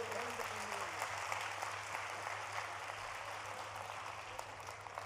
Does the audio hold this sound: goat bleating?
no